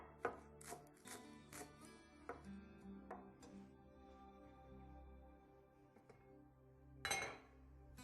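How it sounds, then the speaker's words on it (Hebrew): Green onions being chopped with a knife on a board, a few scattered knife strikes with faint kitchen clinks against a steady background hum, then a louder burst of cutting near the end. "אני קוצצת בצל ירוק כדי לקשט את המרק"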